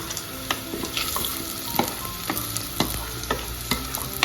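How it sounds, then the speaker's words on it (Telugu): Toor dal frying in oil in a pan while being stirred, a steady close sizzle with repeated scraping clicks of the spoon at an irregular rhythm, and no talking. "ఈ కందిపప్పు కూడా చాలాసేపు వేయించుకోవాలి ఆయిల్లో, అప్పుడే టేస్ట్ బాగుంటుంది."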